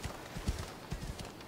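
Horse hooves clip-clopping in the Assassin's Creed Odyssey video game, a quick run of soft, evenly spaced hoofbeats at moderate volume.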